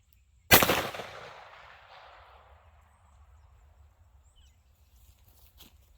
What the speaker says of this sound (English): This is the Ruger LCR, and it's a 357 Magnum, and we have it loaded with the CCI shot shell pest control.